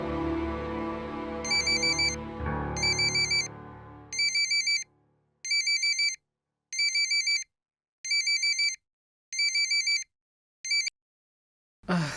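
A phone rings with an incoming call at night, its electronic ringtone sounding in about eight evenly spaced bursts with silence between them, after a fading stretch of music.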